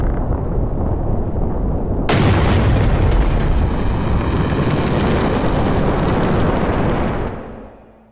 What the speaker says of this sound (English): the large gunpowder storage inside the fortress detonates, and Delita is believed to have perished